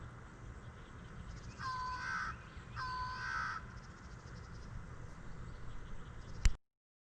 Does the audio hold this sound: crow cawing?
yes